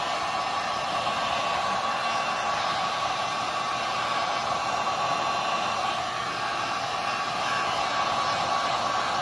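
Heat gun on high heat and high fan blowing steadily over an epoxy tumbler, a constant loud airy whoosh and motor hum that never changes throughout.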